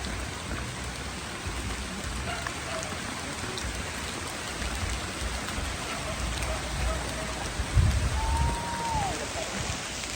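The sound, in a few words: rain falling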